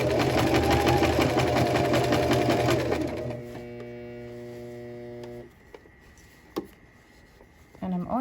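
A sewing machine runs steadily, stitching a shirt seam in a back-stitch pass, loud and close with a dense rhythmic buzz for about three seconds, then it stops. Quieter clicks and handling sounds follow in a near-silent room.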